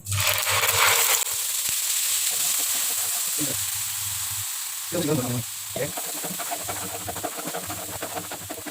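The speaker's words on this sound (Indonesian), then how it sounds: "Nah kita tumis bumbu yang kita haluskan." Loud sizzling and crackling of ground spice paste frying in hot oil, with intermittent stirring scrapes and bursts of spattering throughout.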